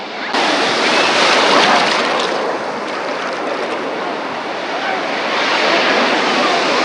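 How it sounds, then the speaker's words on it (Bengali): Large sea waves on Kuakata beach make a continuous, loud, close roar of surf with a gentle swell in intensity and no distinct breaks. "দেখেন কত বড় ঢেউ আসতেছে।"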